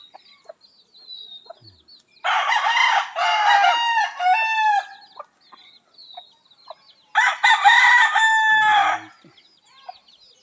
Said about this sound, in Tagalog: Meron tayong ditong